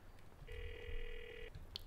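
A mobile phone rings in the video game GTA IV, one short electronic ring tone lasting about a second, faint and clear over quiet background.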